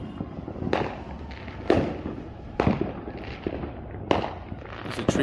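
Fourth of July fireworks going off around a Las Vegas east side neighborhood, heard from in front of a house: a few loud, separated booms and cracks with fainter pops between them and a low background rumble.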